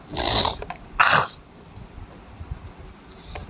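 Two loud, close coughs about half a second apart, followed by quiet room noise with a few faint clicks.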